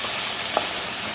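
Ponnariveeran leaves wilt in a pan as they cook for thoran, giving a steady, even hiss of steam and sizzle with one brief stir partway through.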